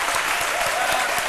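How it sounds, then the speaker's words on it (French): Dense, steady applause from a studio audience on a French-language midday television talk show, continuous and fairly loud with no voices over it. "je voudrais qu'on s'arrête et qu'on se lève et qu'on applaudisse"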